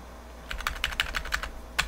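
Keys clatter on a computer keyboard as a command is typed into a Linux terminal, a quick run of about eight distinct taps followed by a pause and one final keystroke, close and clear over a faint low hum.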